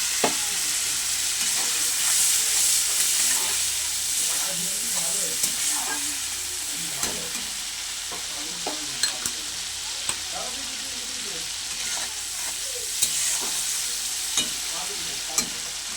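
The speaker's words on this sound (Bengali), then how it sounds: "অল্প একটু জল দিয়ে মশলাটা আরেকটু ভালো করে কষে নেব" Masala paste with a little water sizzles and hisses in a pan while a spoon scrapes and stirs it in irregular taps, a steady frying bed throughout with no one talking.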